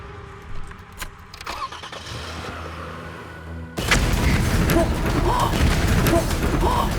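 A parked car outside an inn in Suncheon is started, the engine catching with a sudden loud burst of noise midway, preceded by quieter rumbling and scattered clicks.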